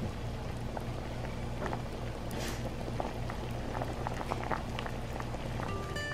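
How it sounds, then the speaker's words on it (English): A pot of red curry noodle soup boils steadily, with a soft continuous bubbling and scattered small pops at low volume and no talking. "Let the curry soup come to a boil and cook for another 5 minutes"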